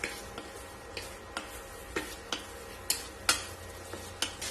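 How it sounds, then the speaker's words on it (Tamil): Fried chicken pieces tossed in orange chicken sauce in a pan, with a soft sizzle under repeated sharp scraping and knocking of a spoon against the pan, roughly one stroke every half second, close and distinct. "அதுல இந்த சிக்கன் சேர்த்து நல்லா டாஸ் பண்ணிக்கலாம்"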